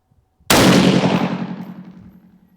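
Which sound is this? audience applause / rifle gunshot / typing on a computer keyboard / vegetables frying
rifle gunshot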